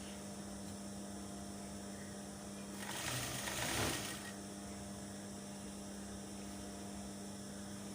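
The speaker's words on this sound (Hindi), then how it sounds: "फिर एक साथ सारी सिलाई कर देंगे" A sewing machine stitches fabric for a neckline in one short run of about a second and a half, rising out of a constant electrical hum.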